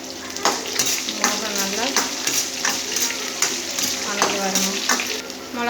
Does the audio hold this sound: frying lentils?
yes